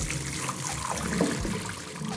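Water drains steadily off onions in a home kitchen, a continuous close splashing trickle with no speech over it.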